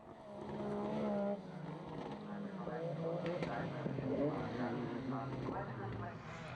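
A Ford Escort World Rally car's engine drones steadily at a rally event with shifting revs, partly under a commentator talking over it.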